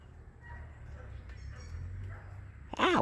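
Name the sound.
dog barking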